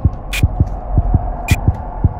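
Steady heartbeat sound effect from the Roblox horror game Doors, deep low thumps in an even rhythm of about eight beats, with a few brief sharp sounds above it and no talk.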